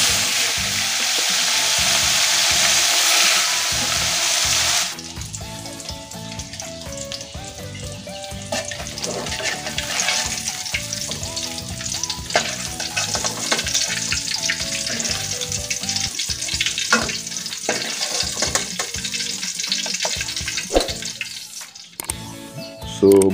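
Galunggong (round scad) fish frying in hot oil as a second batch goes into the pan, a steady loud sizzle that bursts brighter at the start and then crackles on with clinks and small knocks throughout.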